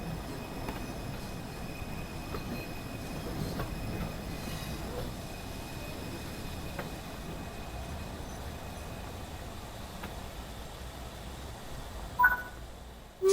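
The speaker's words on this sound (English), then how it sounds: "Stand on the platform and wait for this train to arrive." In Train Sim World 3, a train rolls into a station platform with a faint, steady rail rumble throughout and a brief squeal near the end.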